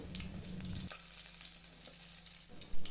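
Garlic frying in hot oil in a pan while preparing rasam, with a steady close sizzle and crackle running throughout, a brief stir or clatter near the end.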